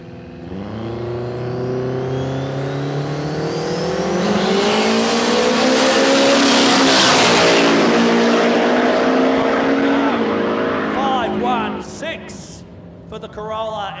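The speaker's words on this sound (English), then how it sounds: "We got Chaotic, the Datsun 1200 station wagon, up against that early model Toyota Corolla." Two small Japanese cars, a Datsun 1200 station wagon and an early Toyota Corolla, launch and race in a drag race, their engines revving loud and steady as they build speed and pass close. A commentator talks over the engines throughout.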